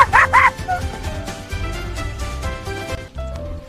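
A cartoon dog gives a few quick, bright yips and barks at the start, followed by lively music and sound effects.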